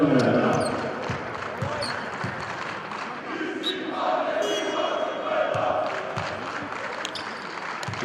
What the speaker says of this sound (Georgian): დინამოს ფანები ისევ აქტიურად კომაგებენ მთელი თამაშის განმავლობაში